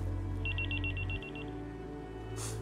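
A telephone rings in a drama scene, a quick series of bright electronic trills lasting about a second over a low steady background hum, then a short burst of hiss at the end.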